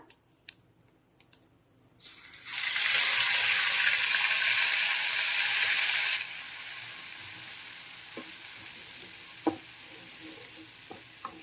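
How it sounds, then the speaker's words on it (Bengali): Spice paste hits hot oil in a wok for a rohu fish curry with potato and cauliflower, erupting in a loud, bright sizzle after a few clicks, then settling into a quieter crackle with occasional scrapes of stirring. "মশলার পেস্টটাকে একটু দিয়ে নেড়ে ছেড়ে নিচ্ছি দু মিনিট কষিয়ে নিচ্ছি"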